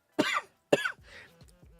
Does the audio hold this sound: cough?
yes